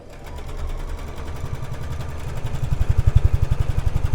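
A sewing machine stitches a block for a Grace Coriander quilt, its rapid, steady needle pulses running close and continuous and growing louder and more pronounced toward the end, with no talking.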